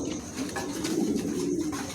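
Domestic pigeons, including an indigo-coloured male and a blue bar-less youngster, coo in a steady, close, continuous murmur with no one talking.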